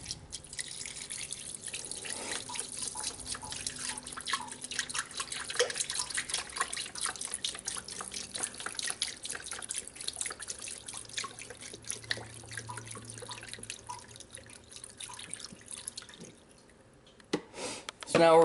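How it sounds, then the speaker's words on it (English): Beef broth poured from a carton into a slow cooker holding venison ribs, a trickling splash with drips over quiet kitchen noise and a brief louder clatter near the end. "From here, I'm gonna pop open your beef broth."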